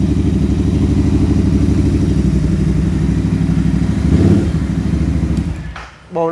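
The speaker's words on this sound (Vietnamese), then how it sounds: "Bô nó rất là to nè anh em, không có dám nẹt lớn" A 2020 motorcycle with a very loud modified aftermarket exhaust revs with a steady, close, throaty roar, then the revs drop and die away near the end.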